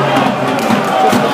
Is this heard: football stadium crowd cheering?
yes